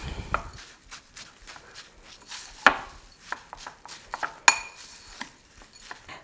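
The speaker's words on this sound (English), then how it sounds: "We're going to mix all this up." Pumpkin pie streusel topping with melted butter being mixed in a bowl, utensil taps and scrapes against the dish in an irregular run of sharp clinks and soft knocks, moderately quiet and close, with no talking.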